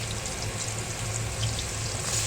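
Chopped bottle gourd sizzles in hot oil with fenugreek seeds and black cumin, a steady close crackling fry with faint stirring, no voices.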